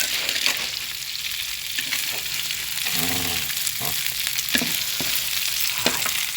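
Southern Thai curry paste liquid bubbles at a rolling boil in a pan, a dense, even hiss with soft bursting bubbles and occasional light knocks, close up and without voices.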